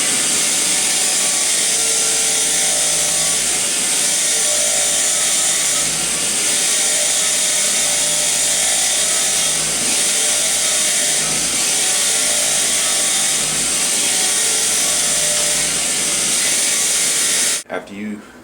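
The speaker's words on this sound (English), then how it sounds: "you want to just clean it with a wire brush type grinder" A wire brush grinder scours motorbike engine valves for a homemade motor bike build, producing a loud, continuous abrasive whirring roar that holds steady throughout and cuts off abruptly at the end.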